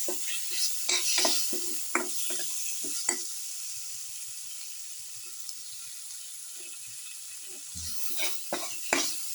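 Food sauteing with chili powder in a pan for a garlic, potato and split chickpea casserole: a steady close sizzle with scattered scraping stir clatters, busier at the start and end, with no talk.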